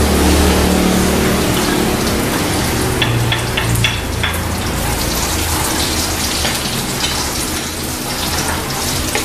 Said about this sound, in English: now we have to saute the garlic